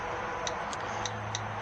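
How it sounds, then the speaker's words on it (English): An old Westclox clock with a radium light-up dial ticks four times in a quiet room, the ticks soft, crisp and evenly spaced. "Cat has an old West clocks with the light up dial"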